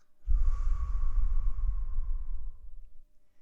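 A single long exhale during a guided breathing meditation, a soft breathy rush that swells quickly, holds steady for about two seconds, then fades away, close and fairly quiet with no talking.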